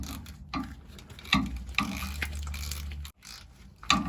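Short metallic clicks and ratcheting turns as a rear differential drain plug is tightened on a 2018 Toyota Tundra, a few close, separated mechanical bursts with brief pauses.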